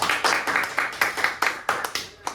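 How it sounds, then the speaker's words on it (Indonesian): A small class in a school laboratory lesson claps for a student, a handful of close, sharp hand claps in uneven bursts that trail off within a couple of seconds. "Tepuk tangan buat Mas Dikta."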